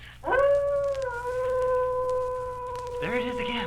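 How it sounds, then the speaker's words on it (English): A wolf howl sound effect from a 1963 Halloween ghost story vinyl record: one long, loud, wavering howl that rises and then holds steady, followed by a brief, rougher yelping tail at the end. "It sounded like a wolf."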